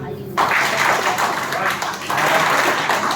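Workshop audience clapping on cue during a group activity, a burst of applause from many hands that swells and holds for a few seconds with a brief dip midway, fairly loud and close.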